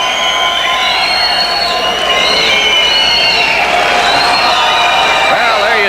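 A loud crowd at an Olympic ice hockey game between Canada and Norway cheers and shouts continuously, whistles and whoops rising over the roar, with a commentator's voice faintly underneath.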